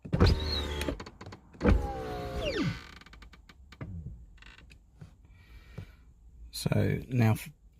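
Electric window motor on a Jaguar XK8 running in short bursts with clicks between them, close and fairly quiet, while a person talks over it.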